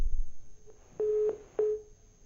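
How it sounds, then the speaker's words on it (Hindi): Steady electronic telephone line tone after a call disconnects, three short beeps in a row over a faint hum, fairly quiet and alone with no talking. "फोन डिस्कनेक्ट हो गया।"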